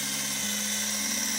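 A power drill pre-drilling holes in wood for a cake storage unit, a steady close whine that shifts pitch slightly as the bit bites in, alone without talk.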